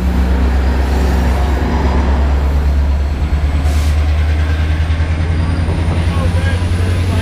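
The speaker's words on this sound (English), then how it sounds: "Really hear that turbo spooled up" A heavy diesel train locomotive roars steadily up close, its deep rumble building with a rising turbocharger whine as it throttles up, loud and continuous.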